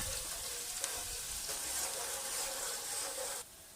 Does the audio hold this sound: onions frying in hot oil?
yes